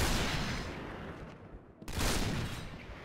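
Sniper rifle fire in the shooter game Point Blank: a loud, dense burst of gunfire fills the opening, drops away briefly, then a second heavy report hits and rings on, with no voices.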